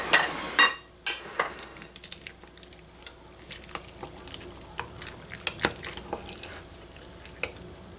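A spoon scraping and clinking against a dish while serving vegetarian lasagna, with soft wet squelches and scattered light taps, close and fairly quiet.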